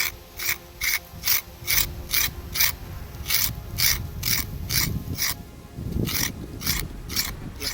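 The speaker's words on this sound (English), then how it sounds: "we'll get our paint scraper" A paint scraper is drawn repeatedly along a wooden walking stick handle, giving a dozen or so quick, even rasping strokes in a steady rhythm, close and moderately loud with a brief pause midway.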